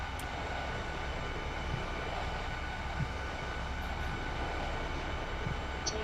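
Steady broadband roar of Airbus A340-500 jet engines with Rolls-Royce engines at takeoff thrust in a flight simulator, a constant near rumble and hiss with no talking.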